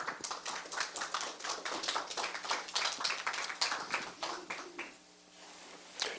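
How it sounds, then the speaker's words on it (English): Audience at a Toastmasters meeting clapping in a lively burst of individual handclaps, close and distinct for about five seconds before dropping off abruptly near the end. "You may notice we clap a lot in Toastmasters."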